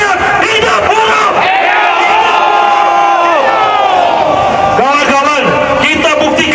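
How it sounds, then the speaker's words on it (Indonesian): Indonesian workers at a street protest against the omnibus law, a large crowd shouting the slogan "hidup buruh" together in loud, sustained chanting bursts that swell and fade, close and dense. "semuanya teriak hidup buruh"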